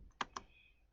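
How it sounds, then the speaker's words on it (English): A few quick computer keyboard keystrokes, two sharp clicks close together then a lone tap at the end, as a ping command is entered while setting up an Azure cloud virtual machine. "So I'm typing ping"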